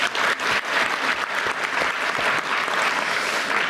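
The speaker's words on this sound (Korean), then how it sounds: "박수 한번 주세요." A town hall meeting audience in South Chungcheong claps loudly and steadily, a dense, continuous roar of many hands that fills the hall for several seconds without any speech.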